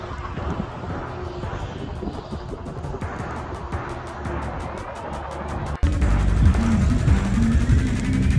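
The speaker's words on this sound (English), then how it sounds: "I'm about to start up the bike." A 2006 Suzuki Gixxer 750 with an extended swingarm and 360 rear tire starts up outdoors in Chicago. Wind buffets the microphone over a low rumble, then a loud, close, deep engine drone suddenly swells and holds.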